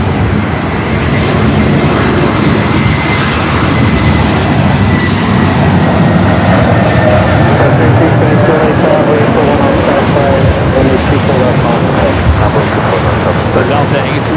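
A Delta Airbus A321neo airliner at Los Angeles airport roars loud and near, its jet engines making a heavy, sustained rumble that fills the whole stretch.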